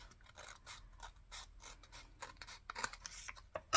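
Scissors snip through square paper card-kit envelopes in a quick series of close, crisp cuts with faint rustling, quiet and without any talk.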